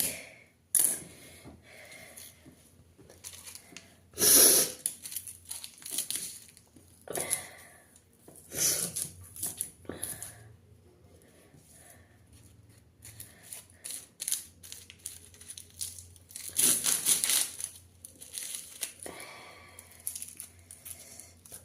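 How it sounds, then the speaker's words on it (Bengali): Onions being cut by hand on a board, heard as a close, irregular series of crisp chopping clicks and crunchy slicing strokes with short pauses between bursts, with no talking. "পেঁয়াজ কাটছি।"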